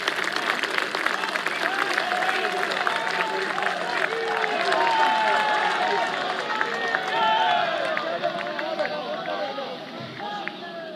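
Loud, dense crowd applause and cheering greet Prime Minister Narendra Modi at a 125th birth anniversary event for Netaji Subhas Chandra Bose, sustained throughout with crowd voices mixed in before easing slightly at the end.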